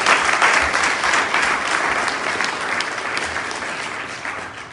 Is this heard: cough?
no